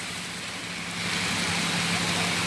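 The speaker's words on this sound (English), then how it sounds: "I'm just singing, freestyling, and traveling in the rain." Steady outdoor rain hissing as a broad, even wash, growing a little louder halfway through, with a low rumble of passing traffic underneath and no talk.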